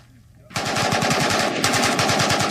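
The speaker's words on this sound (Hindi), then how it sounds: "ये एक ऐसा ऑटोमेटिक राइफल है जो दुनिया में सबसे ज्यादा इस्तेमाल किए जाने वाला हथियार है" An AK-47 automatic rifle firing a long sustained burst of rapid, evenly spaced shots after a quiet moment, loud and close, with a brief change in intensity partway through.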